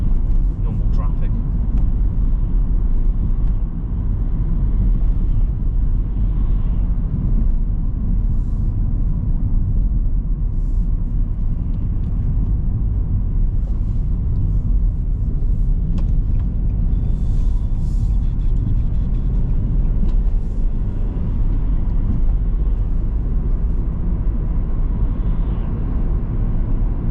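Car driving toward town through normal traffic, a continuous low road rumble and engine drone from inside the vehicle, steady and unbroken for nearly half a minute.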